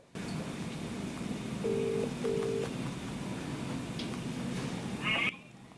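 A phone call is placed to a guest during a Telugu political news programme. Over a steady line hiss, two short ringback tones sound in succession, followed by a brief high electronic chirp before the line goes quiet.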